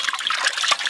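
Water splashes and trickles over a whole chicken, roasted over a village clay stove, as it is washed by hand, a brief, close, bright run of wet spattering.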